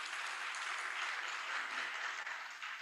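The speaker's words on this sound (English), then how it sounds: "I think you clap for this" An audience at a mobile app launch event breaks into applause, a steady wash of many hands clapping that sounds soft and somewhat distant.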